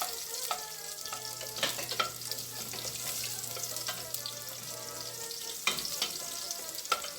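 Garlic sautéing in cooking oil in a preheated pot: a steady bright crackling sizzle throughout, with occasional louder spits and utensil taps close up, no speech.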